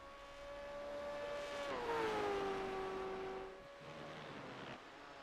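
A V8 race car in a sim racing game at the Red Bull Ring powers out of the final corner, its engine note climbing loud and steady with a clear gear-shift dip midway before pulling on.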